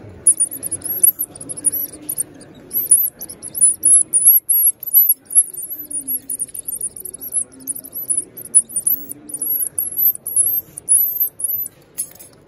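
Rapid high-pitched mouse squeaks imitated on a game call whistle, a long run of short chirping bursts over low background rumble and movement.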